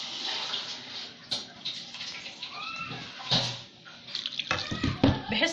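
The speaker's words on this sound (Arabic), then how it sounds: "انا جبت ميه من الحنفيه عاديه اهي، وحطيتها على البطاطس" Ordinary tap water splashes onto potatoes in a baking tray as a home cook prepares an oven-baked potato dish, with close, uneven pouring and a few clinks and knocks in a quiet kitchen.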